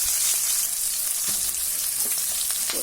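Onions sautéing in a pan give a soft, continuous sizzle with a few faint stirring scrapes, fairly quiet and close, with no speech.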